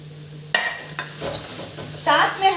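Nutrela soya chunks drop into a pan of dried-out frying onions and get stirred, with a sudden clatter followed by scraping and a soft sizzle, close by.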